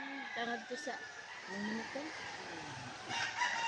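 Chickens clucking and a rooster crowing in a rural Leyte barangay after a typhoon, the bird calls fairly close and steady through the clip with a voice talking alongside.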